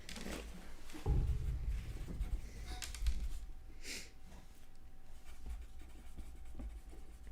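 Pencil scratching across paper on a clipboard, a close, dry, uneven rasp of strokes lasting several seconds with a few louder bumps and rustles near the start.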